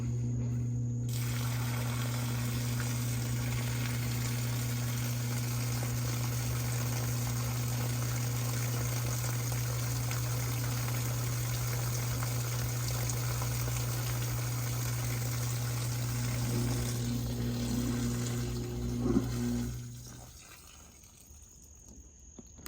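A Samsung WA52M7750AV top-load washing machine draining, a steady pump hum with rushing water running continuously for about twenty seconds before winding down near the end.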